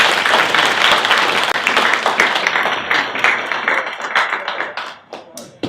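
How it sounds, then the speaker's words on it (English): A crowd of villagers applauds to welcome Mayor Sam at a community gathering, loud clapping at first that thins into scattered, individual claps and fades toward the end. "could we all give Mayor Sam a good round of applause and villager welcome"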